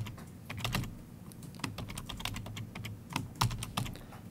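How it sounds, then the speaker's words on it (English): Keyboard keys click in quick irregular runs as a Wi-Fi network password is entered for a DVMEGA, close and moderately quiet, with no one speaking. "you're going to just have to type in the associated password with that network"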